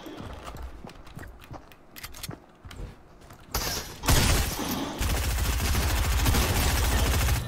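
Gunshots in Fortnite, sharp scattered cracks among footstep-like clatter, then a loud sustained burst of rapid fire and dense noise that continues to the end.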